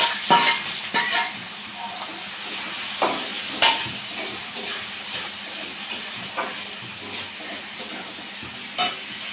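Paneer dropped into hot oil in a home kitchen, crackling and sizzling steadily up close, with a few sharp bursts of spatter and stirring over a continuous frying hiss.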